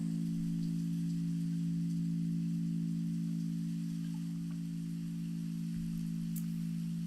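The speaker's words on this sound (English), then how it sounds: "we are going to bring in this beautiful Florida downpour" A Florida downpour patters steadily on surfaces as an even, soft hiss of rain, running beneath a loud continuous low drone throughout.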